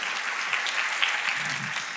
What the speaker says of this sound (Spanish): Aplausos para Belén